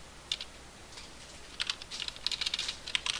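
Someone types on a computer keyboard in scattered bursts of quick, light key clicks, faint and close, with the pace picking up toward the end.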